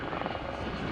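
A Gazelle helicopter, a fast single-engine type, flies at the Southport air show, its rotor and engine giving a brief, faint, steady thrumming drone.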